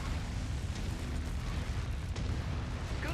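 A target blows up in the MechWarrior 5: Mercenaries mech combat video game with a loud, dense, rumbling explosion that sustains through the whole stretch without a pause, and no speech is heard over it.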